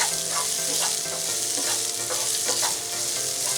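Potato rice ingredients sautéing in a pan, with a loud continuous sizzle and repeated spatula stirs scraping against the metal, close up and without speech.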